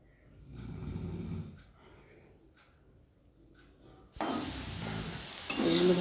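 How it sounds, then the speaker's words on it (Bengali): Potatoes fry in a pan: a rough, low scraping stir first, then a sudden loud burst of sizzling as the oil crackles strongly for the last seconds, close up with no talk. "আলুগুলো লাল করে ভেজে নেব।"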